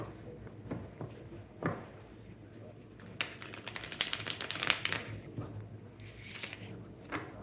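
A Light Seer's Tarot card deck is shuffled by hand, giving soft papery riffles and flicks that build into dense bursts of crisp card slaps midway, close and fairly quiet with low room hum beneath.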